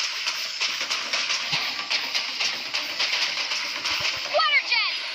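A water jet attack in Genshin Impact gushes and splashes in a steady sputtering rush, with a bright burst of game effects near the end.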